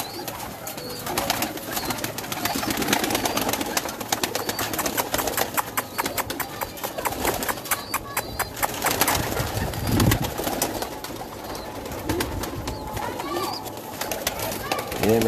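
Rooftop pigeons coo continuously in a dense outdoor flock, a steady layered murmur of calls with scattered wingbeats and clicks, while someone talks throughout.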